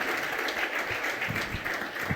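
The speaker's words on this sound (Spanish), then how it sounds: "si quiere darle un aplauso al Señor" A church congregation claps steadily in a dense, even wash of applause, moderately distant and without voices.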